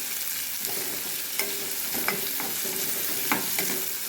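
Onions fry in a pan for an eggplant curry, a soft steady sizzle broken by several sharp scraping clicks of a spoon stirring against the pan, fairly quiet and close with no talking.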